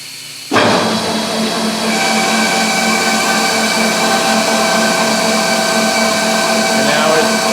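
A Simon semi-automatic box stitching machine starts abruptly after a moment of quiet, then runs with a loud, steady mechanical drone and sustained tonal whine that holds evenly to the end.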